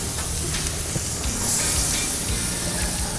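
Kangaroo steak sizzles on a grill after a sprinkle of salt, a steady broadband hiss with small spits and crackles that holds evenly throughout, close and fairly loud, with no voices over it.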